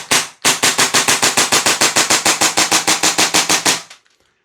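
A Tokyo Marui USP airsoft gas blowback pistol fires a rapid string of about twenty sharp, loud, evenly spaced cracks with an aggressive snapping blowback. A single shot and a brief pause come first, and the string stops abruptly into silence.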